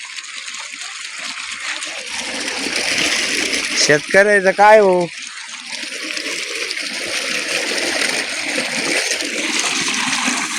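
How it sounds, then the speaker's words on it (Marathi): A Sheva brand pump motor on a farm pours out a steady, loud gush of water. Voices talk over it, and there is a brief warbling burst partway through. "शेवा कंपनीची चांगली पाणी मारते राव."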